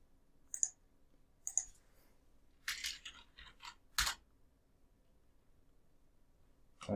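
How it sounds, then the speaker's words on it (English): Scattered computer keyboard key presses, a few separate sharp clicks and short clattering bursts spread across several seconds, quiet and close with near silence between them. "I don't know what I pushed on my keyboard"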